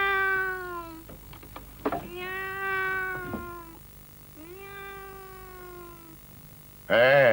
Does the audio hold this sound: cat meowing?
yes